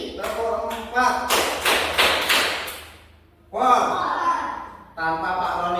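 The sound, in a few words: hand clapping in a counted clapping game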